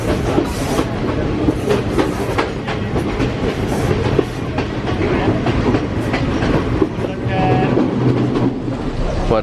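A train carriage rolls along the tracks on the Kandy to Ella line in Sri Lanka, with loud, close, continuous rumbling and rhythmic clickety-clack of the wheels, plus faint voices in the background.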